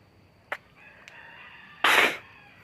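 A rooster crows once in a short burst, preceded by a couple of sharp clicks and a faint hum, with no voices present.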